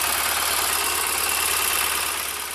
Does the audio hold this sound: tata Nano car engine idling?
yes